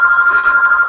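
A telephone rings loudly and steadily up close during a live show, a continuous trilling electronic bell tone with a fast regular pulse and no talk over it.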